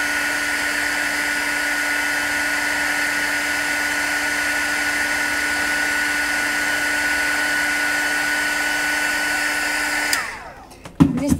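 A hair dryer heats a sheet of foamiran craft foam, blowing with a steady, loud, even whir for about ten seconds before it cuts off, followed by a few faint handling sounds.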